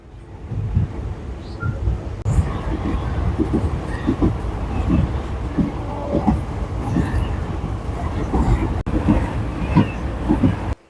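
A moving train near Udumalpet, heard from inside the carriage, gives a continuous loud low rumble with rattling wheel and track knocks and clatter for the whole stretch.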